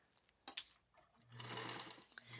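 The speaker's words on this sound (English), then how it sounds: "I put the foot back down, and then I can start sewing again" A sewing machine stitches fabric for a homemade dog toy, with a few soft clicks and handling noises before the motor whirs up into a steady, fairly quiet run of stitching.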